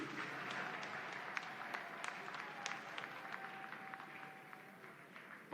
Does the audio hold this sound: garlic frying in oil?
no